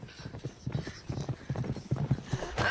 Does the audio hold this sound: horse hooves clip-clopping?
yes